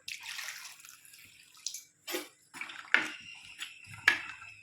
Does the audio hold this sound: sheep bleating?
no